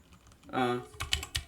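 Code typed on a computer keyboard, a short burst of quick clicky keystrokes that follows a brief spoken syllable from a man.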